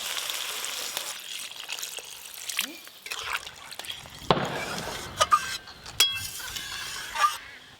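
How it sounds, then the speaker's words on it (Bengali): Fried vegetables stirred into a thin rohu fish curry with a splash of water, giving a soft sizzle with scattered clinks and scrapes of a spoon against the pot, fairly quiet, with people talking nearby. "ভেজে রাখা সবজি দিয়ে একটু নেড়ে নেবো।"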